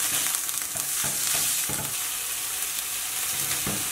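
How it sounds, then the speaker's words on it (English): Diced tomatoes with their juices sizzle loudly in oil in a pan, a dense continuous bright hiss with faint stirring thumps underneath. "So we just added in all the tomato, diced tomato."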